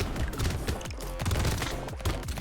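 Turrets in the video game Brotato fire a dense, continuous rattle of rapid shots and impacts that fills the whole stretch, loud and busy without pause.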